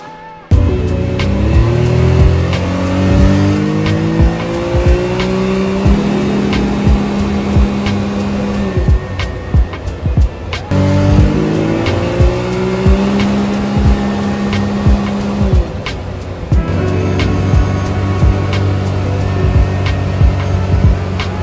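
A Can-Am X3 side-by-side on 35-inch RockZilla tires with beadlock wheels and an aftermarket clutch kit drives down a road, its engine loud and close as it revs up through repeated gear changes and sustains a high drone.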